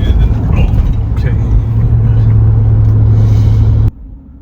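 A car drives along a New York highway near the Throgs Neck Bridge, approaching heavy traffic. The engine rumbles steadily and loudly throughout, then cuts off abruptly near the end.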